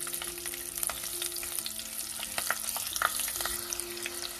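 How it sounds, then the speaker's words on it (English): Green chilies frying in hot oil in a home kitchen pan, a dense continuous sizzle with crackling pops and occasional stirring, close and steady with no talk. "fry these green chilies a little bit"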